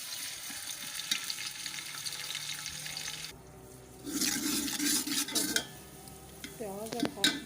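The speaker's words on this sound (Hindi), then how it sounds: "ऑयल गर्म हो चुका, मैं इसके ये प्याज रखे हैं और ये ऐड कर दिए हैं।" Chopped onions hit hot oil while cooking pulao, giving a loud, steady broadband sizzle that drops off briefly, then returns with scraping stirring sounds and sputtering in the pan.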